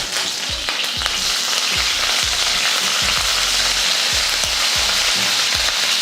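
Curry leaves hit hot oil already holding fennel, dried red chillies, cardamom, cloves, cinnamon and a bay leaf, giving a loud, continuous close sizzle broken by regular scraping stirs.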